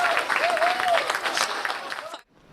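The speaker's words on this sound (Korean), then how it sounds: "무인 달 탐사선 블루고스트가 달 표면에 안착하는 순간 박수와 환호성이 터져나옵니다." Clapping and cheering erupt in a control room as Firefly's uncrewed Blue Ghost lander touches down on the lunar surface; dense applause mixed with raised voices for about two seconds, then cuts off abruptly.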